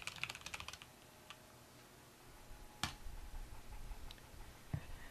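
Typing on a computer keyboard, a quick cluster of faint, close key clicks at the start, followed by a few isolated taps and a sharper click later, very quiet with no voice.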